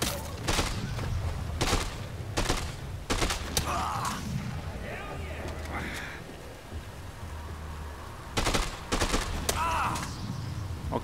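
Gunfire rings out in the video game Dead Rising 2 as short sharp bursts of shots, clustered near the start, in the middle and toward the end, mixed with other game sounds.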